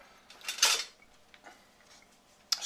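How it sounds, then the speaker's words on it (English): A metal spoon scooping masala from a cooking pan for tandoori chicken, a couple of faint clinking scrapes separated by a short pause, close and quiet with no talking. "scoop up some of this here masala"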